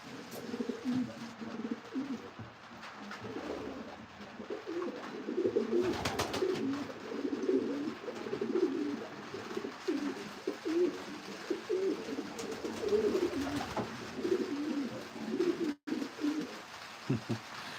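Racing pigeons coo in a repeated rhythmic chorus close by, their soft throaty calls rising and falling over a quiet background, with one sharp click near the end.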